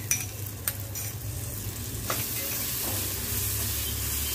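Chopped tomato goes into onions frying in a pan, starting with a couple of sharp spattering bursts that give way to a steady, close sizzle and occasional stirring, with no talking.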